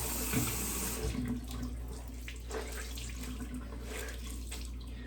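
Hot water runs steadily from a tap into a sink to soak a towel for a straight razor shave, a continuous close splashing rush with faint clatter underneath.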